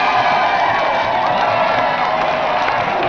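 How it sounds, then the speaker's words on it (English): A large TV game show studio audience applauds and cheers continuously, a dense, steady roar of clapping and shouts that stays loud throughout. "So please give a round of applause for our 2 special guests tonight, Michael Duberry, Richard Rufus."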